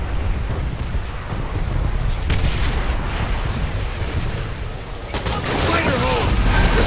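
Gunfire in Call of Duty: World at War during a Pacific assault on a fortified bunker with a Browning 1919 machine gun: a continuous, loud rumble of rifle and machine-gun fire with blasts, and shouted voices mixed in.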